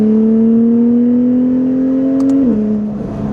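A Toyota Supra sports car engine with open exhaust valves holds a steady, loud drone with a slight rise in pitch, then drops as the revs ease off near the end.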